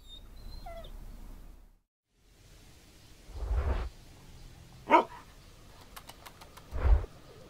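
A dog in a video game lets out a few separate barks and a short whimper, spaced apart over quiet, low ambient game sound.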